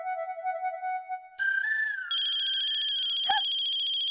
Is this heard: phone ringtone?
yes